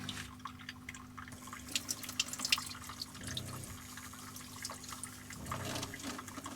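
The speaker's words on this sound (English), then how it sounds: "I think I'm going to have myself a nice head shower in the sink this morning" Water runs steadily into a sink for washing hair at a lakeshore campsite, a soft continuous splash with scattered drips and trickles, close but fairly quiet.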